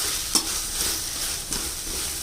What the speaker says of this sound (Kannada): ಇದನ್ನು ಸ್ವಲ್ಪ ಸಾಫ್ಟ್ ಆಗೋವರೆಗೂ ಫ್ರೈ ಮಾಡಿ.